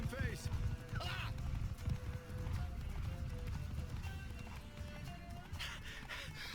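Galloping horse hooves from The Witcher 3, a steady clip-clop rhythm running through the whole stretch alongside game music, with voices talking over it.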